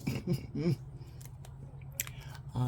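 Scissors snip through paper while cutting out mushroom shapes for a journal: a few quiet, close clips in the middle, with a voice talking before and after.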